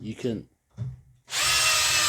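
After a few words from a man, an SDS Plus drill fitted with a bit holder attachment starts to drive screws into wood, giving a loud, steady, close whir.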